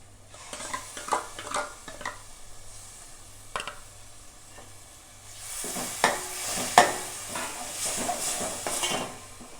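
Ground tomato paste sautéing in hot oil in a pan for crab curry, with a soft sizzle and hiss broken by scraping stirs and light clinks of a utensil, growing louder toward the end.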